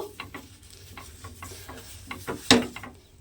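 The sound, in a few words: oil spread on a hot tawa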